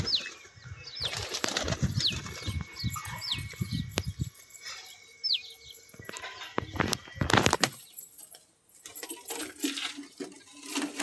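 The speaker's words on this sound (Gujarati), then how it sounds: "બધાએ કબૂતરને કાઢી લીધા છે, નીકળી ગયા છે કાઢીને" Pigeons burst out in repeated flurries of flapping wings, loud and close at first, with a few scattered coos and chirps and rustling bumps between the wingbeat bursts, then quieter stretches.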